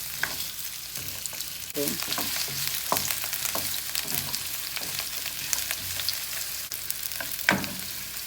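Chopped garlic sautéing in a pan while cooking igado, Filipino pork liver stew, a steady close sizzle broken by repeated scraping stirs, with a brief spoken word.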